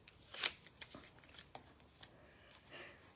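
Paper collage pieces for a sketchbook being trimmed: a few close, crisp snipping and rustling bursts, the loudest near the start, then lighter scattered paper sounds, with no talking.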